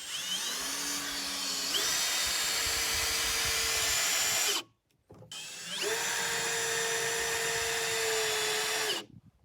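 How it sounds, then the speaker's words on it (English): A power drill drives screws through OSB subfloor sheathing over cabin joists, two long steady whining runs of about four seconds each, with the pitch rising as each screw seats and a brief pause between them, close and loud. "I'm going to put a couple of screws right in the very end here"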